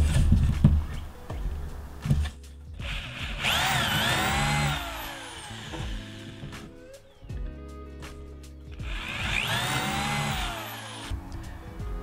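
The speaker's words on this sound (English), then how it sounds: "Now I just need to drill holes in my template using this 3/8-inch bit." Power drill boring holes through a wooden template with a 3/8-inch bit, two loud sustained whining bursts of several seconds each, close up, separated by quieter handling noise and no talking.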